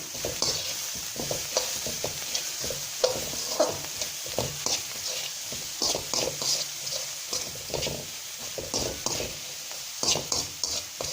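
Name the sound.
stirring winged bean thoran with salt in a frying pan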